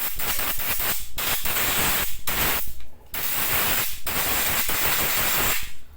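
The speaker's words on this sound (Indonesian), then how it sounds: "Sebelum kita membuka ini, kita semprot ini dulu ya, supaya kotoran yang ada di sini tidak masuk ke mesin." Bursts of hissing aerosol cleaner sprayed onto the engine of a Yamaha Vega ZR motorcycle, several short puffs and longer blasts in a loud, continuous run with brief gaps between them.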